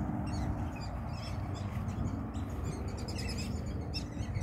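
Small backyard birds squeak and chirp in quick, faint repeated bursts over a steady low background hum, with no voices.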